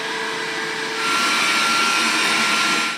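A Dreame D9 Max Gen 2 robot vacuum cleaner runs with a steady, fairly loud whirring hum that steps up slightly in intensity partway through, then cuts off abruptly.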